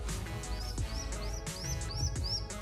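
Baby pigeons give repeated thin, rising chirps in a quick, regular series, close by, over a low steady background hum.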